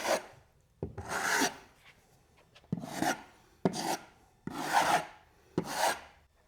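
A putty knife blade feathers spackle across a wall in six separate rasping strokes, each a close, dry scrape of about half a second with short pauses between.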